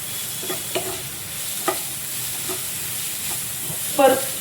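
Cabbage, capsicum and spring onion stir-fried in a pan for veg manchow soup, with a steady sizzle and scattered clinks and scrapes of stirring, close and moderately loud, ending in a louder scrape.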